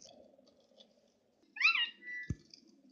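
A single clear video game cat meow from Moshi Monsters, bright and close, rising then trailing off, followed by a short click over a quiet low hum.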